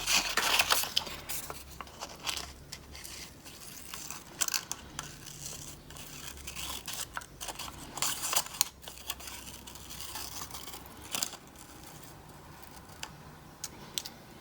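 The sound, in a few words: scissors cutting out paper pig nose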